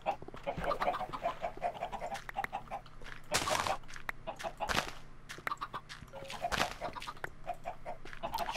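Chickens cluck in the Minecraft Ultra Hardcore game, a steady run of clucking over a low farm ambience, broken by a few sharp, loud bursts of other game sounds.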